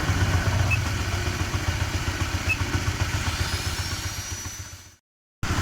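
A CB150 motorcycle engine idles with a steady low, chugging putter, close by, before cutting out abruptly near the end.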